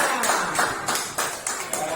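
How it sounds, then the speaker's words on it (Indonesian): Children in a second-grade primary school classroom clap for a presenting group, a soft rhythmic patter of hands with a few sharper claps standing out, fairly quiet and steady. "Tepuk tangan untuk kelompok Karuna."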